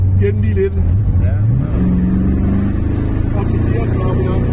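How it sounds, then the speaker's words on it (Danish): A Ford Ranchero 500 GT's V8 engine revs up and holds a steady, loud drone, rising in pitch early on, with people talking over it. "Det er jo ren motorlyd"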